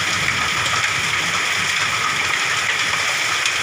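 Heavy hailstorm in Phong Thổ, Lai Châu, pounding nearby with a dense, unbroken roar of ice striking surfaces, steady and loud throughout with no pauses.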